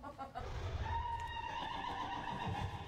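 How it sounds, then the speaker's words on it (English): A horse in World of Warcraft whinnies in a long, wavering neigh, fairly close and clear, with a faint rumble underneath. "Oh my god, that horse sounds terrible."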